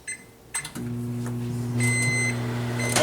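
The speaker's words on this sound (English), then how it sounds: "we're going to put this in the microwave" A microwave oven hums steadily while melting butter, starting with a door clunk and a beep before the motor drone settles in, joined by a higher electronic whine partway through; close and continuous.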